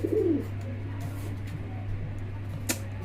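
Fancy racer pigeons give a single soft coo near the start, then fall quiet over a steady low electrical hum, with a faint click or rustle near the end.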